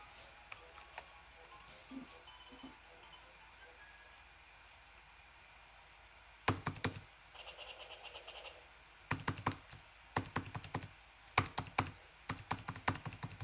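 Computer keyboard keys clack faintly at first, then in loud clustered bursts of rapid presses over a quiet background, close to the microphone.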